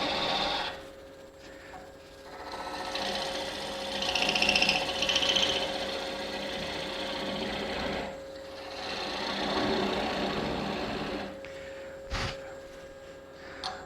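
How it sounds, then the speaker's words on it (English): A wood lathe whirs as a tool cuts away excess tenon on a turned calculator blank, a steady close grinding rasp in several long passes with short breaks between them. "I don't need all this tenon on here, so I'll cut some of it off"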